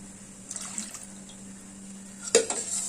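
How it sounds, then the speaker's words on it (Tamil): Milk is poured into a small ice-cream mixture in a kitchen, producing short, soft liquid splashes and pouring sounds, with a clearer splash near the end. "இன்னும் கொஞ்சம் பால் ஊற்றிப்போம்."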